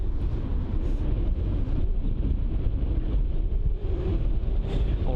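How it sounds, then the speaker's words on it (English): Steady wind at Heathrow airport gusting around 15 knots, roaring into the microphone as a constant low buffeting rumble with no breaks throughout. "Alright, so wind speed at the moment is 15 knots, so it's increasing again, with the windsock right there."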